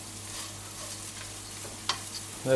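Biryani rice with ginger garlic paste is stirred in a frying pan, a faint soft sizzle under occasional scrapes and clinks of the spoon near the end.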